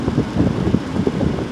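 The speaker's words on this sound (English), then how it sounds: "I started the engine again." Idling vehicle engine with a steady low rumble, heard up close and alone on a rainy outing.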